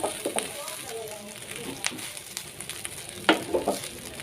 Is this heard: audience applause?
no